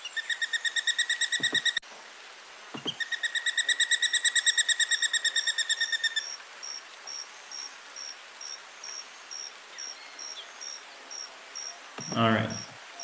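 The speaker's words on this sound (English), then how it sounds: "then a bird starts whistling" Insect-like pulsing trills in a played recording give way to a faint, high bird whistle repeated in short, even notes, ending with a brief rustle.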